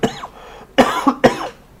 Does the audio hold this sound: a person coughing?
yes